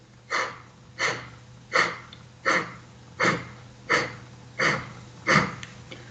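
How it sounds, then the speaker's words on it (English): A steady series of eight sharp, forceful yoga breathing exhalations through the nose with lips sealed, evenly spaced about every 0.7 seconds, close and clear with no talking. "it is a rapid sequence of exhalations where we are drawing our low belly up and in"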